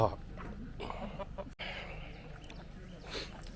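Fighting-breed roosters cluck and murmur nearby amid a busy background with some talking, soft and intermittent.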